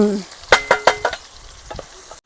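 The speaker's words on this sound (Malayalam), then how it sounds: "നമുക്കിതിലോട്ട് ഇങ്ങ് ഒഴിച്ചുവിടാം സവാള ഇട്ട് കൊടുക്കാം" Onion tipped into hot oil in a pan outdoors for a chicken curry, giving a few sharp clattering stirs and brief sizzle bursts close by, then fading to a quieter hiss.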